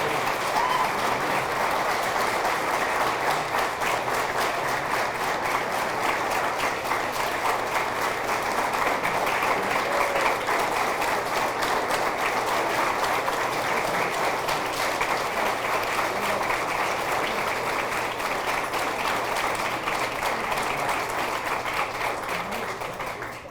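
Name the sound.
audience applause for hall of fame athletes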